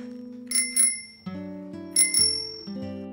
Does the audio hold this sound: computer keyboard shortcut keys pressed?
no